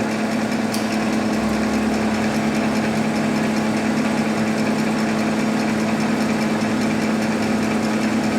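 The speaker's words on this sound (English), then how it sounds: "we're going to turn the pump on" A pump running on a Sun distributor test machine, a steady close mechanical hum with a strong low drone and constant whirring, unbroken for the whole stretch with no voices.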